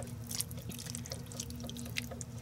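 Water pours steadily into a pot holding celery, carrots, potatoes and cabbage, a close, continuous splashing trickle with small drips and no talk.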